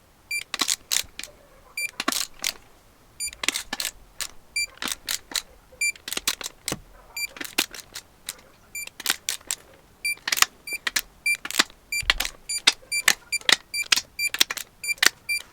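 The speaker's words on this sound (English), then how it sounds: "So all the inners are now torqued" Torque wrench being worked on Allison 1000 transmission bolts on a Duramax, with irregular sharp metallic clicks in quick clusters, close and distinct against a quiet background.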